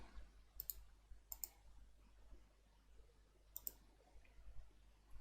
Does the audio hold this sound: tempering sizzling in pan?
no